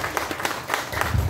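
Audience at a DXN seminar clapping for a branch manager, a short burst of dense applause with several sharp claps standing out, some speech mixed in at the end.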